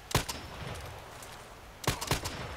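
Gunfire in a Sniper Ghost Warrior style shooter: two short bursts of sharp shots, a couple of cracks early on and another pair near the end, loud against a low background hiss.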